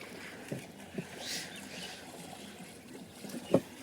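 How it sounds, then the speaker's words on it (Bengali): A small boat gets under way on the shallow, weed-choked Jalangi River, with faint lapping water and a few soft knocks of the oar or pole, one louder thud near the end. "দেখুন নৌকাটা চলতে শুরু করেছে"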